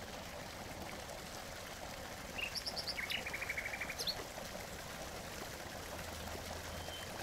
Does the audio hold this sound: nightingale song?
yes